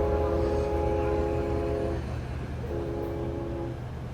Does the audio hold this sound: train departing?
yes